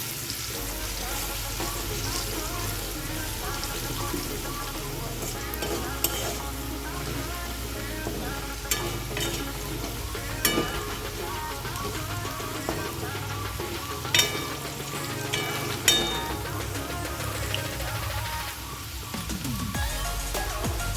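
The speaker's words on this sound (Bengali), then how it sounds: "দিয়ে এবার এটাকে ভালো করে নাড়িয়ে চাড়িয়ে ভেজে নেব" Mutton fat ghugni fries in a pan with a little salt and turmeric, giving a continuous dense sizzle with occasional louder crackles and stirring scrapes, close and steady throughout.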